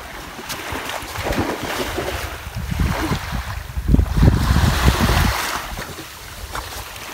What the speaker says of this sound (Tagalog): Yung laking bangka na yan